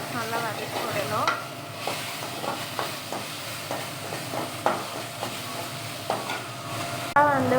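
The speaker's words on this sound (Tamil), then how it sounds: "இப்போ இதையும் நல்லா அது வதங்குற வரைக்கும் நல்லா வதக்கி விடணும்" Chopped tomatoes sautéing in a pan, a continuous close sizzle punctuated by regular scraping strokes of a spoon, with a brief louder clatter at the very end.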